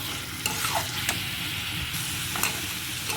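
Potato curry, with chili spice powder, sautés and gets stirred in a pan, producing a steady close sizzle broken by a few sharp scraping and clinking stir strokes.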